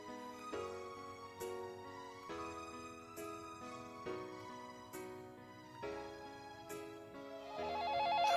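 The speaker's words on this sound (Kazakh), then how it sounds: "сизге звонок келди" A Nokia 111 mobile phone from 2012 plays its polyphonic ringtone: a bright, repeating melodic pattern of tonal notes that is loud and close, with no talking over it and a faster trilling figure near the end.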